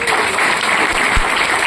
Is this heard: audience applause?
yes